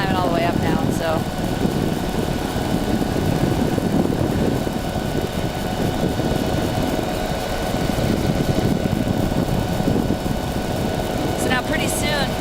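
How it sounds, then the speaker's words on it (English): A tow plane's engine drones at a steady, loud level as it climbs while towing a hang glider over Oahu's North Shore, with people talking over the noise. "There's another tow plane. Yeah, he looks like he's climbing all the way up now."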